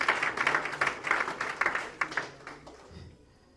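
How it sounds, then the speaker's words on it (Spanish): A church congregation applauds during a sermon with steady rhythmic clapping that stays loud for a few seconds and then fades out. "Dele fuerte el aplauso a Cristo porque Él es bueno."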